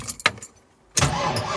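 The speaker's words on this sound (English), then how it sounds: "I got it to start, but the belt is squealing." A car engine cranks and catches with a short burst, goes quiet for a moment, then roars into a sustained loud run with a high squealing belt whine over it, close by.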